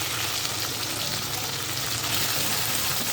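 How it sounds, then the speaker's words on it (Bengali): A spice paste of cumin, ginger, green chilli and dried red chilli sizzles and fries steadily in a pan for Bengali pangas fish bhuna, a continuous close crackling hiss. "সমস্ত উপকরণ এখন আমি একটু ভালোভাবে কষিয়ে নেব"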